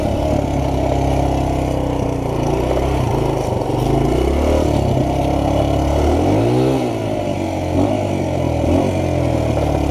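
A motorcycle engine runs loud and close with a rough, steady mid-pitched idle, briefly revving up and dropping back midway before settling again, with no talking over it.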